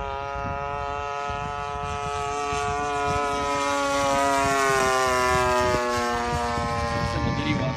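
An 89-inch Decathlon model airplane with an old engine flies overhead, its steady high-pitched drone rising and falling slightly in pitch as it passes, with people talking over it.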